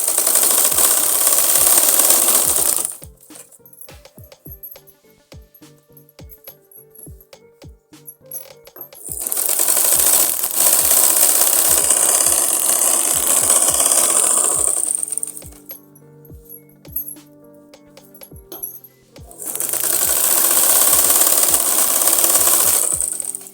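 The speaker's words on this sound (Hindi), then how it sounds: "ऊपर से साइड से किनारी पर सिलाई लगाएंगे" Sewing machine stitching the edge of a salwar with buckram strip folded inside, in three loud whirring bursts of rapid stitching separated by quieter stretches of clicking and handling.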